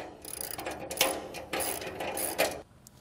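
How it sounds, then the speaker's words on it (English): A socket ratchet tightens a 14 mm lock nut while a 1/2-inch wrench holds the inside nut on a lawn mower grass catcher bracket. Close, crisp bursts of rapid ratchet clicking come in three strokes with short pauses between them. "I am going to use my 1/2-inch wrench here for the inside lock nut, and I'm going to use a 14-millimeter socket for the outside"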